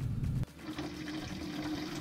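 Gasoline drains from the fuel tank of a 1992 Nissan 300ZX, a faint, steady trickling splash into a container after a brief louder gush at the start.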